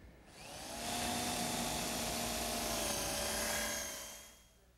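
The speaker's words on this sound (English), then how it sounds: "The first thing I want to do is drill a hole for this screw right here." A power drill bores a screw hole in a wooden support piece for a drop leaf table, a steady high whine that ramps up, holds for about three seconds and winds down, close and alone.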